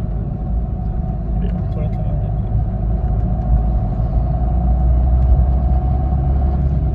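A car engine rumbles steadily while driving, a deep, even drone heard close up from inside the cabin, with someone talking over it throughout.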